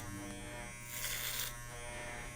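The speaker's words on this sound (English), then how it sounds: "let the bottom of your clipper go below the bottom of your comb" Electric hair clippers buzzing steadily during a clipper-over-comb haircut, a close, continuous hum that grows brighter and louder for about half a second as the blades cut hair.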